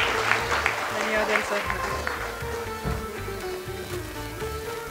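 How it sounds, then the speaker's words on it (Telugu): An audience at a Telugu charitable trust gathering gives a dense burst of applause that continues steadily, with voices mixed in throughout. "మనం అందరం ఒక్కసారి మన చప్పట్లతో ఆమెను అభినందిద్దాం."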